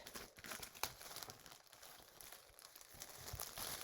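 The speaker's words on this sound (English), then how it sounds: "I like to kind of go along the side and kind of use my scissors like this, just to make a spot that I can open this up with." Scissors cutting along the side of a paper craft-kit package, giving soft crinkling and snipping sounds with a few sharper cuts, close and fairly quiet, with no talking.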